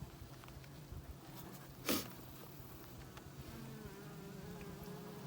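Honey bees buzz steadily around an open brood frame in a backyard hive in midsummer, a low continuous hum with a brief louder swell near the middle as one flies close.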